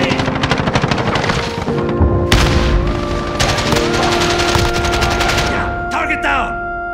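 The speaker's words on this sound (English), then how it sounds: "Throwing grenade." Gunfire and a grenade blast in Call of Duty team deathmatch, with loud sustained rapid automatic fire and dense bursts throughout, heavy low booms mixed in, and game voice callouts faintly beneath.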